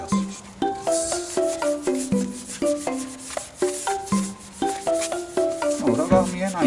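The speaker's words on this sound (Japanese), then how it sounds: "同様に裏側もですね、スポンジヤスリしていきます" Sponge sandpaper scrubs the back of a stock Nissan Cube wheel before black paint, making a close, steady run of rhythmic back-and-forth rasping strokes with no pauses.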